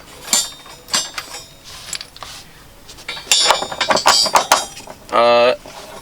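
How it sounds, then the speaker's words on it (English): Bolts are pre-threaded into a car seat bracket, giving irregular metallic clicks, ratcheting bursts and scraping taps, close and uneven, with a sustained buzzing ratchet near the end. "I'm going to go ahead and pre-thread our bolts"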